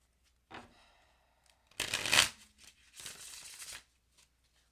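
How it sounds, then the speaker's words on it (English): A deck of tarot or oracle cards being shuffled by hand at close range, with a few soft riffles building to a loud burst of card flutter and a second longer shuffle, no talking. "I want a really good shuffle just so I'm making sure here."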